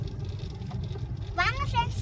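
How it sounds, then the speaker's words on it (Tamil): Road traffic passes during a family outing, a continuous low rumble of vehicles in the background, with a person's voice rising clearly over it toward the end. "இந்த டிராஃபிக் வண்டிய தாங்க முடியல ஃப்ரெண்ட்ஸ்"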